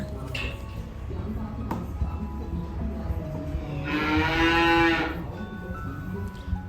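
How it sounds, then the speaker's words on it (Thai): A calf on a premium beef cattle farm lets out a loud, drawn-out moo lasting about a second amid barn background noise, while someone talks. "เสียงลูกวัวร้องเสียงดังเพราะว่าอยากดื่มนมค่ะ"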